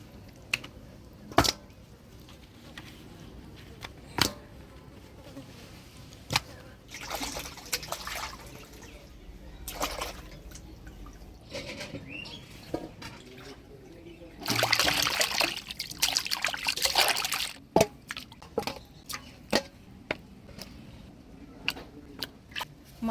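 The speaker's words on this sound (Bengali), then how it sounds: "এবার পরিষ্কার করে ধুয়ে নিই।" Running water trickles and splashes while cut pieces of pomfret fish are washed clean, with intermittent sharp drips and a louder burst of splashing partway through, close by and with no speech.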